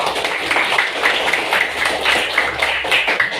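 A classroom of students applauds a presenting group, steady clapping with a rough repeating beat, fairly loud and close, with no clear talk over it.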